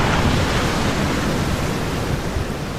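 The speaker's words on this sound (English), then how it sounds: "So I'm getting a little closer to the waves down here" Ocean surf breaking on a shoreline, recorded close to the waves: a loud, continuous, hissing roar of churning water with rough wind buffeting on the microphone and no voices.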